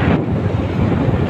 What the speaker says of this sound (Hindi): ठंडी ठंडी हवा चली हुई है